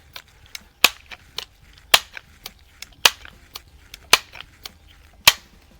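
Crosman air rifle shots on an outdoor range at 25 yards, a series of sharp dry cracks, several loud and others fainter, spaced irregularly about a second apart with quiet gaps between.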